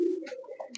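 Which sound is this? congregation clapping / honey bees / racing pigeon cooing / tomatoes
racing pigeon cooing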